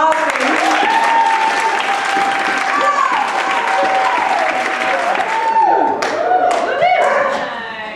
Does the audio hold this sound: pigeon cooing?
no